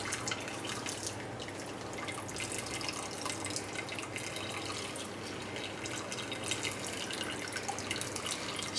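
Bone stock liquid draining through a strainer, a continuous close trickle and patter of liquid that stays steady and moderately quiet throughout.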